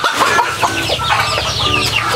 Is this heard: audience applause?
no